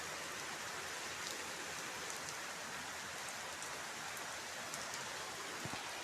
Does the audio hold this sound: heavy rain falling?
yes